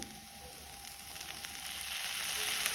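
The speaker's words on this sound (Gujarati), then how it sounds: "એકદમ સ્લો ગેસ પર આવી રીતે ફેરવતા ફેરવતા ક્રિસ્પી કરી લીધા છે" Vegetable muthiya stir-frying in a pan over a very low gas flame, giving a steady soft sizzle with faint crackle that builds slightly louder over the few seconds, no voices.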